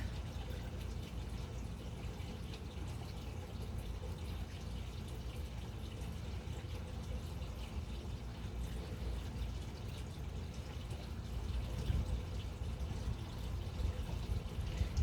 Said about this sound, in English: If you hear water in the background, that's my fountain.